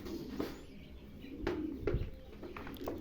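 Pigeons coo softly in a coop, several low throaty calls at intervals with a faint background hum and occasional light rustling, no voices.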